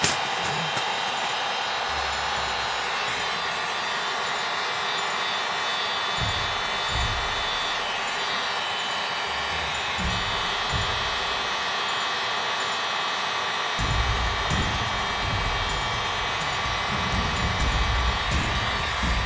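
A hot air tool blows steadily with a continuous, even rushing hiss that lasts throughout, with slight low rumbles underneath.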